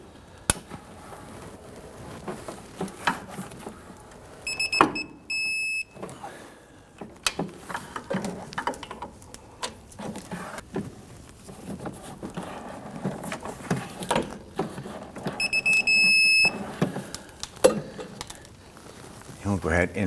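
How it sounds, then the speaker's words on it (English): Torque wrench tightening the bolts on a 2005-2010 Chrysler 300 rear suspension knuckle to 50 foot-pounds, with two short bursts of sharp metallic ratchet clicks standing out over scattered clanks and handling noise in a garage. "we want to go ahead and torque these down to 50 foot-pounds"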